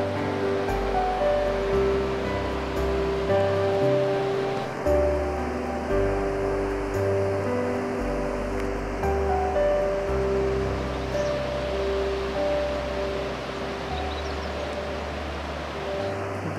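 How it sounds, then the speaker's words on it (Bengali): Running water along a quiet river at Sonamuni Jungle Beach, a steady broad rush that carries on unbroken, with faint birdsong mixed into the wash and no voices nearby. "পাখির আওয়াজ আর জলের আওয়াজ"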